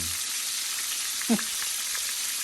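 Fried chicken frying in oil, a constant fine hiss and crackle of sizzling throughout, with a brief clatter near the middle.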